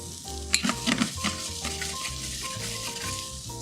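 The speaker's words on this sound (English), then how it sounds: "And while this is sauteing, I'm gonna add some of the walnuts." Walnuts sauté in oil in a pan for a braised rabbit dish, with a steady close sizzle and occasional stirring scrapes and clinks.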